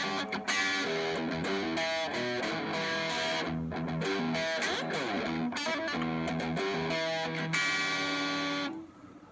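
Electric guitar played through a Fender Champion 110 amp with the mids turned up and low reverb, a distorted, chorus-tinged riff of sustained chords and single notes that rings out and stops near the end.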